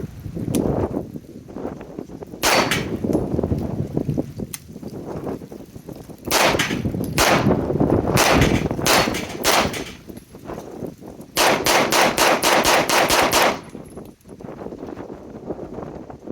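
A Springfield 1911DS Prodigy pistol fires 124 grain S&B 9mm rounds, with sharp close shots in scattered singles and then a rapid run of about a dozen evenly spaced blasts, with quiet gaps between groups.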